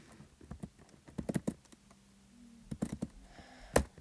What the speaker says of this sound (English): I'm just gonna do some keyboard spam